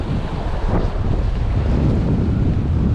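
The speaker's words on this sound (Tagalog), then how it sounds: "lakas ng hangin." Strong wind at sea buffets the microphone during squid fishing from a boat. A loud, continuous roar carries the wash of waves, with no voices.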